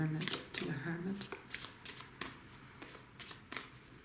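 Tarot cards shuffled by hand in quick riffling bursts, close and fairly quiet, with a voice speaking over part of it.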